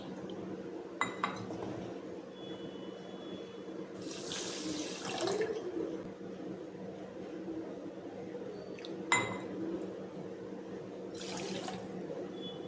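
Water poured from a bowl onto sugar in a pan for syrup, a steady close trickle with two brief louder splashing bursts and light clinks of metal utensils, no talking.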